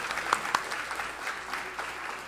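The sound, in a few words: congregation applauding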